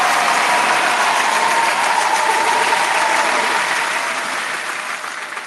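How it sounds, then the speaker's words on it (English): Applause during a mixshow, a loud, dense wash of clapping and crowd noise that holds steady and slowly fades toward the end. "Round of applause for collabing."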